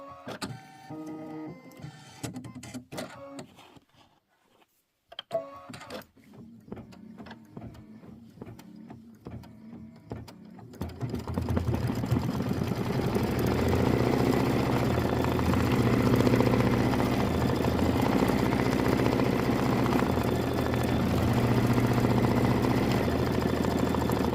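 A Kimberbell embroidery machine stitching door decor in a 5x7 hoop starts with sparse, irregular clicks and taps, then settles after about eleven seconds into a steady, loud mechanical whirring.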